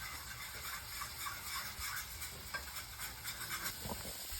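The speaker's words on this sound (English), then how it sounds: "to make our gravy, we're gonna start with some good old bacon drippings" Bacon drippings sizzle and crackle steadily in a pan as gravy gets started, a close, continuous frying hiss with occasional stirring scrapes and no voices.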